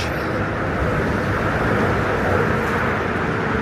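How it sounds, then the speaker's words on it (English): Dense, loud rumbling noise of trains and road traffic near a bridge in New York City, a continuous broadband roar without pauses or speech. "there you got road noise, train noise, and the train noise is just worse than the road noise"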